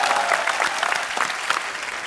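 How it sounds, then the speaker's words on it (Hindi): A short burst of enthusiastic clapping from a TV comedy show studio audience, loud and close, sustained for a couple of seconds. "So Stalin sir के लिए एक बार जोरदार तालियां."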